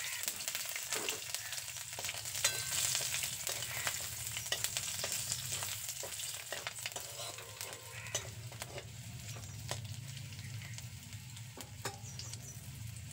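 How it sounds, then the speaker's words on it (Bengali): Ten to twelve garlic cloves frying in hot oil, a steady close sizzle with frequent crackles and spatters and faint stirring scrapes throughout, no voices. "রসুনগুলোকেও খুব ভালো করে ভেজে নিতে হবে।"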